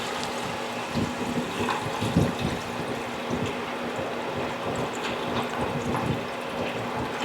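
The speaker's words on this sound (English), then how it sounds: "Now we're going to be adding in our water." Water is poured into a soup pot for a macaroni soup with ribs, a steady, continuous watery rush and gurgle lasting several seconds, close and even in level, with no voices over it.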